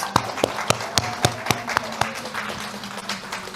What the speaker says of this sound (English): Let's give another round of applause for our models